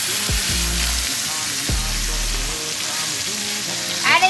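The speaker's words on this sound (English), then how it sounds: "When your butter starts to foam, baste your steak." Ribeye steak sears loudly in foaming butter in a hot pan, giving a dense, close, continuous sizzle with a few low thuds and a sharper spatter near the end.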